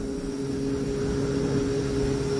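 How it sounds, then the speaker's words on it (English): A Ziehl Abegg EC blue fan motor runs on three-phase power during a troubleshooting test, giving a loud, steady, unbroken hum with a clear tonal whine throughout. "So I'm gonna go ahead and test this motor right here now, okay?"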